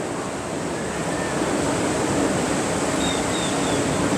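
Ocean surf at Cancún, a continuous broadband wash of waves rolling in, loud and steady, with faint bird calls above and no talking.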